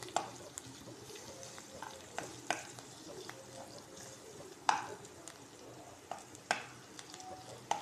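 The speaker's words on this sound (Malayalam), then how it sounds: "നമുക്ക് സവാള നന്നായിട്ടൊന്ന് ഇളക്കി കൊടുക്കാം. നമ്മൾ വെളിച്ചെണ്ണ ഒഴിച്ച് കൊടുത്തൊന്ന് വാട്ടിയെടുക്കണം." Onions fry gently in coconut oil while a spoon stirs them, a soft steady sizzle broken by periodic scraping and clacking strokes against the pan, quiet and close.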